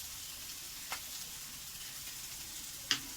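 Shrimp frying in a pan with ginger, chili and cumin gives a faint, steady sizzle, broken by a couple of brief sharp clicks or stirs.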